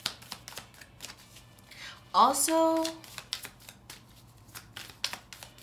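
A brief riffle of tarot cards being shuffled cuts through quiet surroundings, and soft voices and taps are heard around it.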